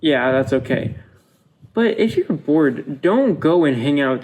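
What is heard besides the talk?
No distinct noise like a dog, phone or traffic.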